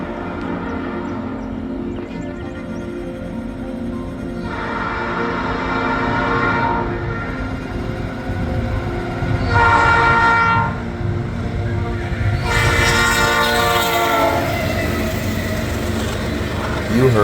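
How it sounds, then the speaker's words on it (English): CSX CM44 locomotive 7422 sounds its Nathan P3 air horn in a series of loud, chiming blasts with short gaps between them, over the heavy rumble of the passing train. "That was a new cast P3 horn on a CSX locomotive."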